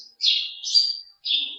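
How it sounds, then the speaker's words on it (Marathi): A sparrow chirps at a Shiva temple in three clear, bright bursts with short gaps between them, close by and with no voices. "चिमणी बघा"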